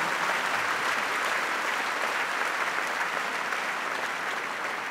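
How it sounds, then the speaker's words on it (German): Audience applause at a senior dance gala in Bremerhaven, a dense, steady wash of many hands clapping at close range that holds at an even level throughout without pause. "das ist schon mal ein Applaus wert"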